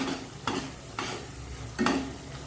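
A spice mixture fries and is stirred in a pan for vegetarian ghugni, with a soft, steady sizzle. Three faint scraping strokes of the spoon come at regular intervals, fairly close and quiet.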